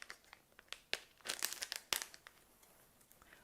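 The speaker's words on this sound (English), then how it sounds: "we need to take the test out from the foil pack" A lateral flow test is pulled from its foil pack with close, crisp crinkling and a few sharp tearing snaps over a few seconds.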